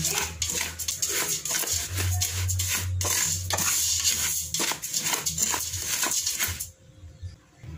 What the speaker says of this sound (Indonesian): Setelah itu, aduk-aduk supaya bahan-bahan kering ini tidak menggumpal saat dituangkan cairan.